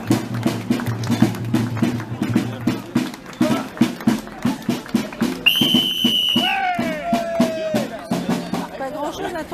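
A loud whistle shrieks at an outdoor bouquet provincial parade in Soissons, a long high blast that slides downward, over a steady pounding drum beat and background crowd chatter.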